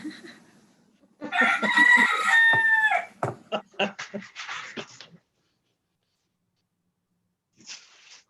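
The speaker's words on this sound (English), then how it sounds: "Especially when I got the crew out there crowing for us." A rooster on Kauai crows loudly nearby in one long, drawn-out call, followed by clucks and short squawks, then quiet and a faint sound at the end.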